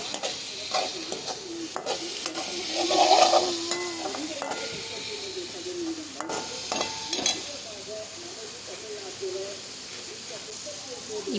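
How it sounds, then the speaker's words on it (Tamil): Chopped vegetables for veg rice sizzle steadily in hot oil as they are stirred, with soft scraping strokes through the frying and a louder burst near the middle; a voice speaks at times over the cooking. "இப்போது நம்ம கட் பண்ணி வச்ச காய்கறியை உள்ளே சேர்த்துடலாம். நல்லா கிண்டி விட்டுக்கோங்க."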